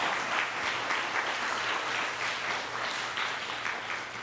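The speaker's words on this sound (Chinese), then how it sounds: "我们再一次鼓掌来祝福这些妈妈们哈。" Church congregation clapping during a worship service, a steady, dense wash of applause from many hands that carries on without a break.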